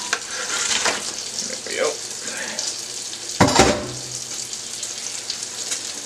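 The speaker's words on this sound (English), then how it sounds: "Time to throw our clams in." Freshly caught clams tossed into a pot of boiling chowder, giving a steady bubbling sizzle with a brief louder splash and clatter partway through.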